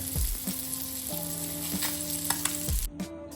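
Varal fish frying in hot oil with curry leaves added, a steady crackling sizzle with sharp pops, beneath a low mechanical hum.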